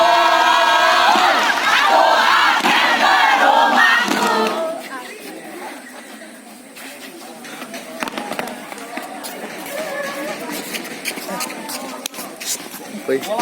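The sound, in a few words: applause and cheering for the Paskibra flag troop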